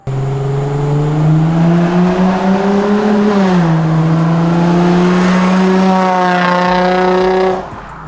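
Loud Nissan Skyline G35 coupe engine running steadily, its pitch rising and dipping as it revs, then cutting off abruptly near the end.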